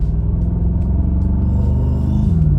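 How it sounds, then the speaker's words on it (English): Bentley Continental GT V8 (2021) idling with its big sport-mode exhaust open, a steady deep low rumble with a slight rise in pitch near the end, loud and close with no talk. "What I like about this V8, especially in sport mode, this big exhaust is opened up"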